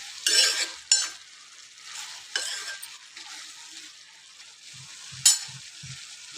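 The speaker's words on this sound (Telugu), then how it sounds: "చిక్కుడుకాయ వేసుకున్నాం కదా, ఇప్పుడు ఒకసారి మంచిగా మిక్స్ చేయాలి" Broad bean curry is stirred in a hot pan. A few sharp scrapes of the spoon cut through a faint, steady sizzle, with quiet taps near the end.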